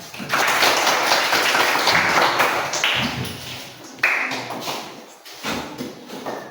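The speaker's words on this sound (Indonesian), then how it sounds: "Tepuk tangan dulu kita." An audience in a classroom-style gathering claps after a prayer, a loud, dense burst of applause that thins and swells again before fading.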